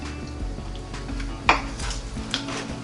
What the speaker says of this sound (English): I'm going to go ahead and cut this one that was reading a little cooler.